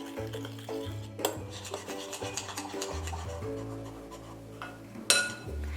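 Flour and yeast being mixed in a bowl, with soft rubbing and scraping strokes and occasional light clinks against the bowl, steady and close.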